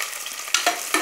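Green chillies sautéing in a pan for vegetable biryani, a soft sizzle with a few quick stirring scrapes of a spoon, close and brief, without any talking.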